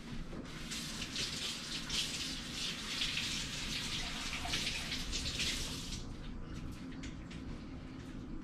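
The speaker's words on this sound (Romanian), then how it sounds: "Spălăm ceapa." An onion washed under a running kitchen tap, a steady close hiss of flowing water that cuts off near the end, leaving faint drips and handling sounds, with no talk.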